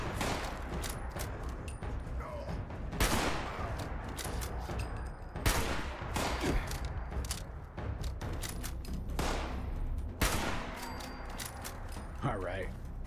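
Gunfire in Fallout 76 during an online firefight: a handful of sharp shots at irregular intervals over steady in-game noise, with footsteps and players talking throughout.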